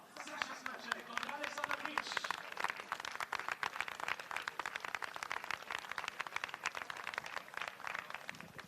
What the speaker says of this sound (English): ready to receive everyone's applause after this 5th race, the BBAG auction race, won by Waldemar